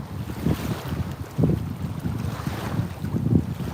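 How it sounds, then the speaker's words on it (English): Wind buffets the microphone outdoors beside a river during a fishing trip, a steady rumbling roar that swells in gusts throughout, with no talking. "It's slightly windy out today."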